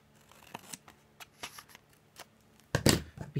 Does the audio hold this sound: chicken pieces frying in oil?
no